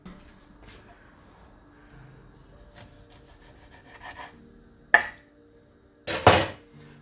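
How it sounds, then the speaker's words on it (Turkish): Thinly sliced onions sprinkled with salt are squeezed and kneaded by hand in a bowl, giving soft wet rubbing and squelching, broken by a couple of sharper close scrapes near the end. "Yaklaşık 3-4 dakikadır soğanı yoğuruyorum"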